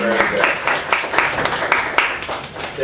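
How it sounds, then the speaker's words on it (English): Second-grade students applaud together in a classroom after a small-group lesson, a lively burst of irregular hand claps held at a steady moderate level for a few seconds. "They're clapping for me."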